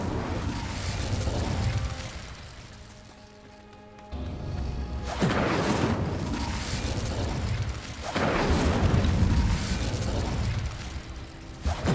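Repeated fiery spell blasts from the Incendio fire charm in Hogwarts Legacy, loud whooshing bursts of flame a few seconds apart over a rumbling, crackling game background.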